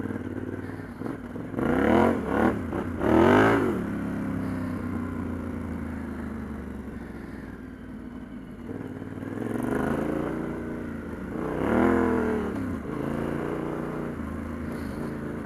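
A Yamaha T7 motorcycle ridden over off-road terrain in off-road mode, its engine revving up and easing off in repeated surges, with clattering and scraping from the rough ground, close and without talk.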